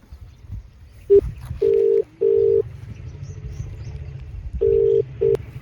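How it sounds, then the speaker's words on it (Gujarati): Phone tones sound as someone places a call, several short, loud, steady beeps of uneven length in two groups separated by a quiet gap, over faint background noise. "લાવ ને ઘટાભાઈને ફોન કરીને પૂછી જો."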